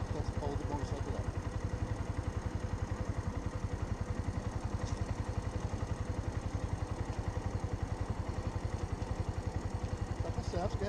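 A motorcycle engine idles close by in a rapid, even putter throughout, with a rider's instructions spoken over it during a beginner riding lesson.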